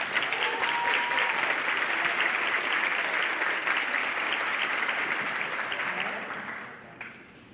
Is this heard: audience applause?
yes